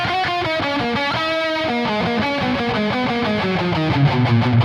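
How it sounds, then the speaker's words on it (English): A distorted electric guitar plays a shred solo through a Toneforge Jeff Loomis amp plugin with room reverb added, a sustained bright line of fast stepping and held notes, loud and continuous without voices. "a bit of room reverb that suddenly makes it sit in the stereo field a little more"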